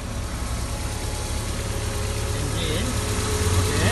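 An MG MGF roadster sits idling, its engine giving a steady, low, even hum that holds close and constant while someone speaks over it.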